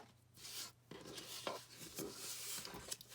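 Folded paper for a handmade craft album is burnished flat, giving soft, close scraping and rubbing strokes in short uneven passes with brief pauses between them.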